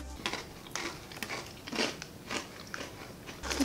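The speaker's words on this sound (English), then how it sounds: "They were crunchy pretzel sticks with a brown sugar flavor." Brown sugar flavored pretzel sticks being bitten and chewed up close, a series of sharp, dry crunches spread through several seconds with short pauses between bites.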